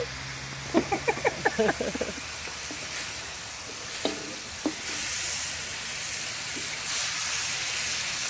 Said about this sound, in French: Et on laisse mijoter le temps que ça cuit.